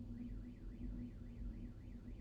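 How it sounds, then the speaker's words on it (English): A car alarm set off by loud thunder wails in a steady rising-and-falling tone, fairly distant and continuous, over a low rumbling background hum with no talking. "it was so loud it set off a car alarm"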